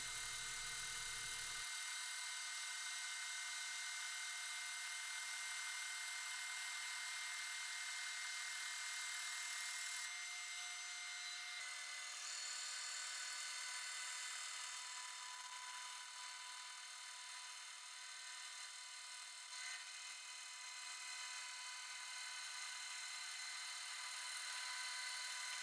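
Thin strips being cut from a cherry wood board by a power saw: a steady high-pitched whine runs continuously for the whole length at a fairly quiet level, with no talking.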